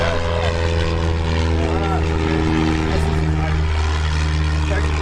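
A Dauntless dive bomber's propeller engine drones loud and steady, a deep rumbling hum with strong low tones holding throughout at close range.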